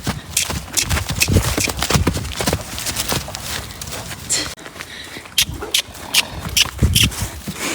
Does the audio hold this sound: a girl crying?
no